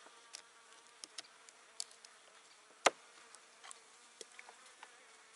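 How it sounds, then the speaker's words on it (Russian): Honey bees buzz in a hive during autumn treatment with Bipin, a low steady hum broken by scattered sharp clicks and one loud snap near the middle, with no voices. "Вот они уже загудели."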